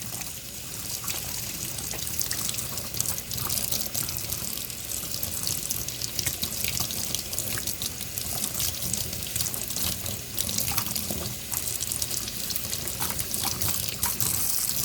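Hot water runs steadily from a tap into a bathroom sink, giving a continuous broadband hiss and splash that stays level and close for the whole stretch with no talking.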